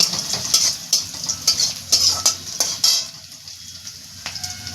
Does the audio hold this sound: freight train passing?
no